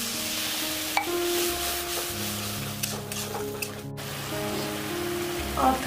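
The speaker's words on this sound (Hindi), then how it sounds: "अब इसमें हम लोग पानी और आलू को डाल देंगे।" Water and potatoes go into frying masala in a pan for an egg paneer curry, bringing a soft sizzle with stirring and scraping, a few light knocks, fairly quiet.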